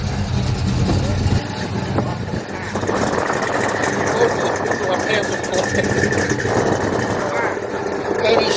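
A 1987 IROC Camaro idles steadily with a low, rumbling exhaust, close and loud throughout, while someone talks over it.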